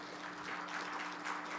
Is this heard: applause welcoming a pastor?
yes